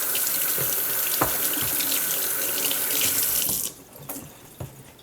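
Tap water runs steadily into a sink while vegetables are scrubbed, with a few knocks and handling sounds, loud and near until the flow stops partway through, leaving small clatters.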